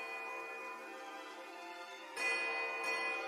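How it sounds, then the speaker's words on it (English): Delicate silver bells on grass stalks ring in a sustained, shimmering wash in the game Pillars of Eternity 2: Deadfire, swelling louder partway through as more bells join the chiming. "the tide of ringing bells sweeps you off your feet"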